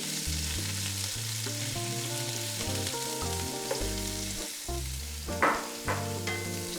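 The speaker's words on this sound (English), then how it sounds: "just let that fry off for about half a minute" Chopped onion frying in a pan after lamb shanks have been browned, a steady broad sizzle running throughout alongside continuous tonal music, with a few brief utensil clicks near the end.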